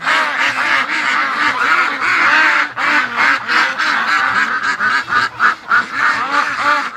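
Loud, close quacking and honking from a group of pet ducks pours out in overlapping bursts, a steady noisy chorus with brief dips and no human voice.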